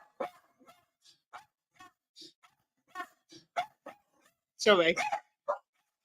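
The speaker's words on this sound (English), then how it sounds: "There's someone at my door and the dogs have gone berserk." Several dogs barking frantically at a visitor at the door, sharp close barks and yips scattered between a person's speech, with a louder burst of barking near the end.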